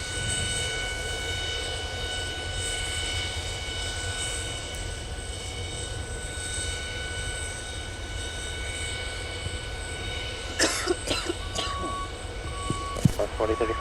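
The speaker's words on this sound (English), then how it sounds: "Those BMW Rolls-Royce engines have a sweet," Steady roar of BMW Rolls-Royce jet engines with a high whine at Minneapolis–Saint Paul airport in winter, continuous and fairly close, with a few brief clicks and radio-like blips near the end.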